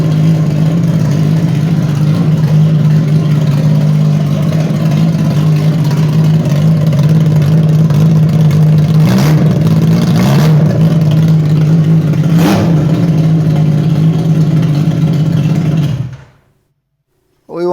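A Suzuki Hayabusa dirt drag bike engine idles loudly and steadily up close, with a few sharp throttle blips partway through, before it shuts off abruptly.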